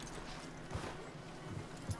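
Horse hooves in Red Dead Redemption 2, a few faint, soft thuds spaced irregularly against a quiet low background hum.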